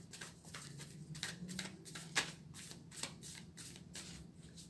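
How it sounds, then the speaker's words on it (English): An oracle card deck being shuffled by hand, a run of soft papery riffles and slides repeating in an uneven rhythm, close and fairly quiet with one sharper snap midway. "we'll shuffle a little bit more"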